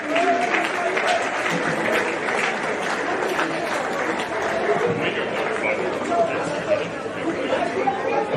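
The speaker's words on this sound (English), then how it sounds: "Big round of applause for Tyson." A crowd at a Victoria vs. Queensland men's football presentation applauds Queensland player Tyson Martin as player of the match, steady clapping mixed with loud chatter throughout, fairly near and continuous.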